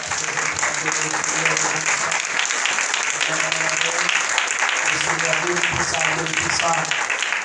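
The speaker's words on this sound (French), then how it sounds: "Frappez mes applaudissements, Seigneur." Steady clapping from a congregation during a Sunday worship service in church, continuous and fairly loud for the whole stretch, with voices and music tones running underneath.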